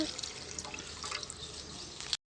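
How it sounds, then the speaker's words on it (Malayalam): Water streams into a pot for cooking wheat, a quiet close trickle with dripping splashes that cuts off abruptly near the end; no talk. "2 കപ്പ് വെള്ളം ഒഴിക്കുന്നത്."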